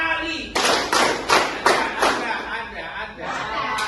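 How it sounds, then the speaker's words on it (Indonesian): A group of people in a training class claps hands in unison five times, the claps crisp and close, followed by a brief pause and quieter room sound. "Tepuk tangan 5 kali."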